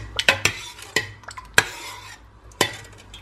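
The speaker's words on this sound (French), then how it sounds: "Je mélange." A utensil stirs a dish in a pot after a splash of coconut cream, giving sharp metallic clinks and scrapes in an uneven rhythm, close and clear, with a faint sizzle underneath and no voices.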